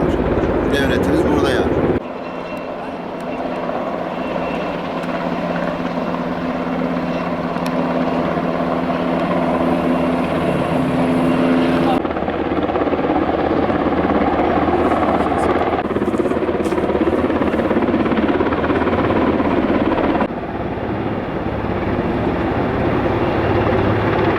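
A gendarmerie rescue helicopter's droning rotor and engine roar continuously over the Amanos countryside, fairly loud, while people talk over it; the sound shifts abruptly at a few points.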